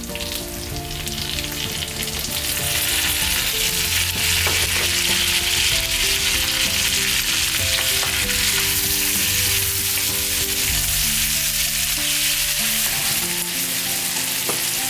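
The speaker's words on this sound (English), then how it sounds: "now you can add onion, green chili" Onion and green chili fry loudly in a pan for Korean spicy pork, a dense, continuous sizzle with stirring throughout and no voices.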